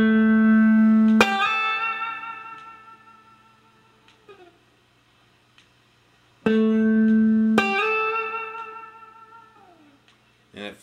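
An electric guitar plays a rockabilly lick slowly: a sustained bent note is struck twice, with sharp picked attacks, and rings out with a gliding pitch bend before fading, on its own.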